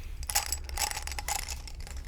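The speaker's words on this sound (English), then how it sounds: "It is what I believe that you humans call makeup brushes. But, well, a makeup brush container" A makeup brush container being handled up close, producing quiet clicky, rattling plastic taps and scrapes in a quick irregular series, no speech.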